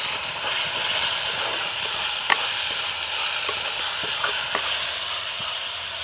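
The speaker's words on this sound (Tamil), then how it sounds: "தக்காளி பழம் ஓரளவுக்கு வதங்கிட்டது" Chopped tomatoes hiss and steam in a pan as they are stirred for an egg curry, a steady loud sizzle broken by scattered sharp spoon clicks, with no voices.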